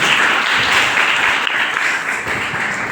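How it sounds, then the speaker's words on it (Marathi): An audience in a hall applauds fifty-two students from nineteen schools, a dense, loud, steady wash of clapping sustained for about three seconds. "आपण जरा जोरदार टाळ्या वाजवे"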